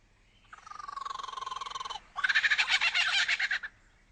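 A lyrebird imitates a kookaburra call: a rising series of rapid, rhythmic pulsing notes that swells into a louder, choppy laughing burst, clear and close, then stops abruptly.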